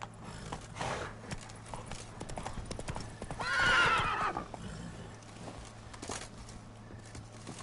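Roach, a horse in a video game, clip-clops along in steady hoofbeats and lets out a loud neigh midway, with faint talk in the background.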